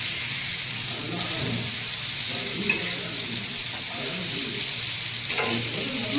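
Coconut frying in a pan, a continuous soft sizzle with light stirring scrapes, close and even throughout.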